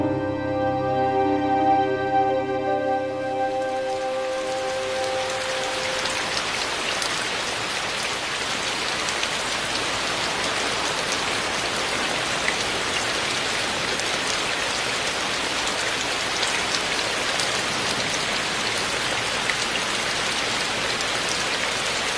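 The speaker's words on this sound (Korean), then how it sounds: "고즈넉한 천년 고찰에 담장을 적시는 빗소리가" Steady rain patters and splashes on the walls of an ancient Buddhist temple, Magoksa in Gongju, continuous and even, after a few seconds of fading tonal ringing at the start.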